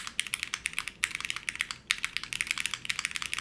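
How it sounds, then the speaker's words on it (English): Rapid typing on a soft-feeling mechanical keyboard with light key weights, a steady run of crisp, close clicks and clacks with brief pauses, loud and alone without talk. "This is a soft feeling keyboard."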